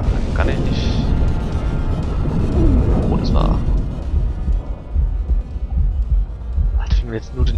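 A heartbeat thumps in the video game Hydrophobia Prophecy, a low, muffled throbbing pulse under rumbling ambience, with someone speaking German over it.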